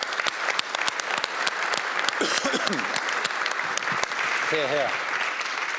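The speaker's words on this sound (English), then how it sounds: "let's clap our hands" A crowd applauds steadily throughout at a conference plenary session, with a couple of brief spoken words heard over the clapping.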